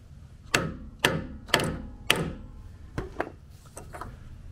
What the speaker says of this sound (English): put our snap ring into place and then use our install tool